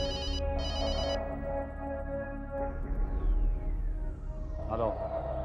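A telephone rings in repeated electronic bursts, fairly loud, over a dense bed of background music and sound.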